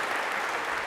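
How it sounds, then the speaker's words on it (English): A short burst of audience applause, even and dense clapping from a crowd, continuous through the brief moment. "All right, a big round of applause"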